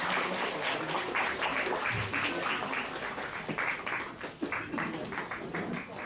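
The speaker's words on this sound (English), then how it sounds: "Can we have a round of applause, please?" Sustained applause from a sizable audience, dense steady clapping filling the room for several seconds without a break.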